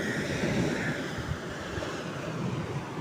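Sea waves at Bekal beach on the Arabian Sea coast, a steady broadband wash of surf mixed with wind buffeting the microphone, continuous and fairly loud with no voices.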